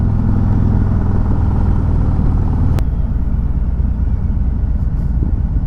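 Harley-Davidson Road Glide motorcycle with only 1,835 miles riding on the road, a steady loud low engine rumble and wind noise throughout, with a sharp brief click near the middle.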